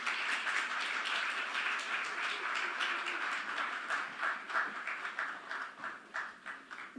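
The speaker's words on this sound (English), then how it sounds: "Ladies and gentlemen, a round of applause for Sheila Addo" Light applause from a conference audience, a thin patter of clapping heard at a distance that stays steady, then thins and fades toward the end.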